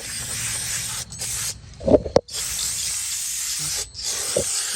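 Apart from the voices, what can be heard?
spraying brake cleaner on car drum brakes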